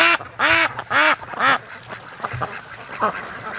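Wild ducks quack in a short burst of several loud, harmonic calls close by on a lake, followed by a few softer, scattered quacks, with domestic ducks nearby.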